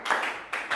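Students standing in a high school classroom clap together in a patterned rhythm, three quick, close group claps in under a second.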